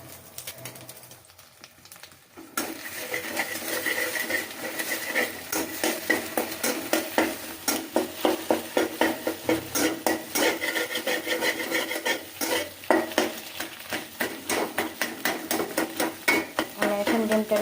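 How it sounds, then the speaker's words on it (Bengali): Two eggs frying in hot oil with a background sizzle, overlaid by a rapid, rhythmic scraping of a utensil against the pan that keeps going after a short quiet start. "তেলটা গরম হয়ে গেছে, এখন আমি দুটো ডিম ঢেলে দেব।"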